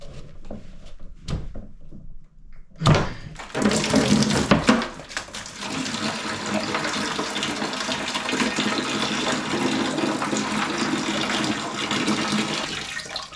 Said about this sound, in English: I'm glad that I had that 5-gallon bucket handy. That was a lot of water.